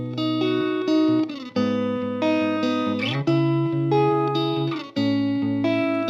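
Sustained synth chords in a simple 4-5-3m-6m progression, made in Ableton, change every second or so. The bright electronic tone is clear and loud, with no talking.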